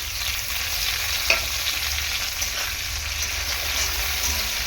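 Tomatoes and onions sizzle steadily in hot oil while being stirred, a dense continuous frying hiss close up, with a faint scrape of the spoon now and then.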